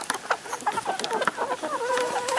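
Chickens cluck busily in a close, overlapping chorus of short, chattering calls with no pause as they crowd around porridge at feeding time.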